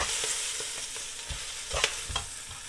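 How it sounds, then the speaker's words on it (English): Kale greens and garlic frying over very high heat in hot oil, a loud continuous sizzle broken by scattered clicks and taps of a utensil stirring in the pan, with no talking. "just going to give this a quick fry, maybe just 2-3 minutes, very high heat, get the garlic going"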